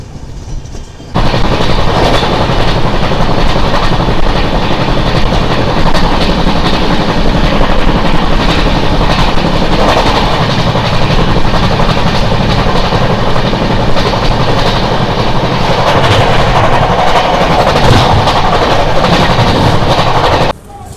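The Godavari SF Express runs near Anakapalli, a loud, continuous rumble of rolling carriages with wheel clatter that starts abruptly and holds steady for about twenty seconds before cutting off.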